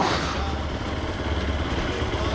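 A motorcycle engine runs close by on a sandy approach to an abandoned beach resort in Mozambique, a steady low rumble with clattering mechanical texture under wind.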